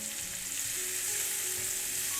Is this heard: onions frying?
yes